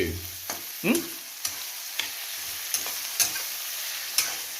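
Onions and green chilies fry in hot oil for a chicken fry, a steady close sizzle broken by several soft stirring scrapes and taps, with no talking.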